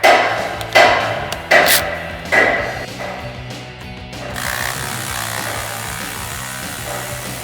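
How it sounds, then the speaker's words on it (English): A power ratchet spinning out exhaust manifold bolts on a 2011-2014 Mustang GT during a long-tube header install: several short loud whirring bursts with clicks, then a longer, quieter steady run, close by and without talk. "I'm gonna use a power ratchet to speed things up a little bit."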